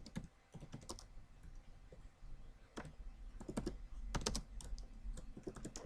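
Quick bursts of keyboard typing clatter nearby, irregular clusters of key taps with short pauses between them.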